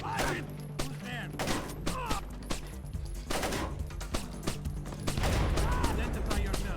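Rapid bursts of video game gunfire crackle and thump in uneven volleys, mixed with game voices and effects, growing louder and denser toward the end.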